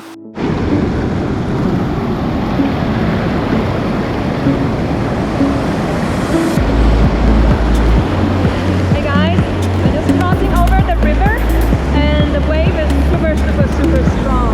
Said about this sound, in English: So you can see this is how strong those waters, the waves are.